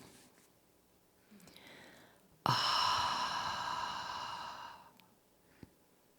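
A single long, breathy exhale rushes out close to the mic after a softer intake, fading away into near silence with a small click at the end.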